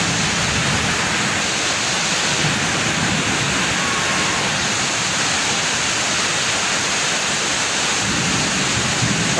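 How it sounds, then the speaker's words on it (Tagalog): Heavy rain pours down steadily outside a school building during a thunderstorm, a loud, dense roar of rainfall with low rumbling, continuous and unbroken throughout with no voices. "Sa lakas pa namang ulan na yun."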